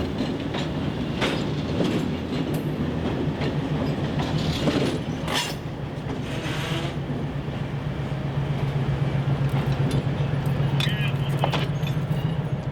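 Arkansas & Missouri Alco diesel locomotives haul a train through the Ozarks, a steady low diesel drone with rhythmic wheel clatter on rail joints throughout, loud and close, with some faint talk.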